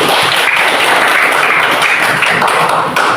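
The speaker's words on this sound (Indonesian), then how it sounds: "Berikan tepuk tangan dulu" A classroom of primary school pupils applauds a group that has just finished presenting its discussion results, steady clapping filling the room from start to finish at an even, fairly loud level.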